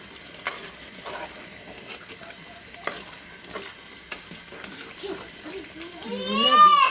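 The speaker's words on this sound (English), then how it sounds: "Mix everything together." Okra soup being stirred in a pot, with soft repeated scraping and clicking strokes over a low simmer, ending in a louder, brighter swell of motion and voice-like tones near the end.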